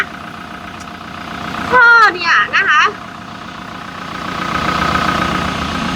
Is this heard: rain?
no